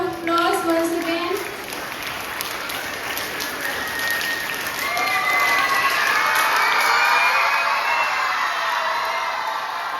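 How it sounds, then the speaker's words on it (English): Audience at a school storytelling competition breaks into sustained applause mixed with cheering and children's shouts, filling the hall loudly for the full stretch and swelling toward the end. "Let's give a huge round of applause once again."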